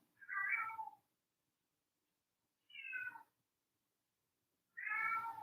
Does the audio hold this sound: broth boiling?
no